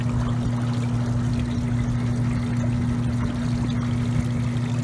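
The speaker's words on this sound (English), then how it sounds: "The table's doing a really good job of separating the light plastic and the waste flowing down into the tailings from the heavier metals" Shaker table separating ground-up circuit board material, with water flowing steadily across the deck alongside a constant low mechanical hum from the machine.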